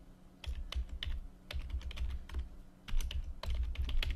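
Fingers type a password on a computer keyboard in quick, uneven bursts of close key clicks, with brief pauses between runs of keystrokes and no voices.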